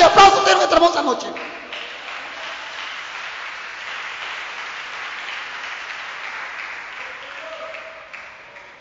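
A church congregation at an evangelical service applauds, with a loud, busy burst at first that settles into a sustained wash of clapping, mingled with voices.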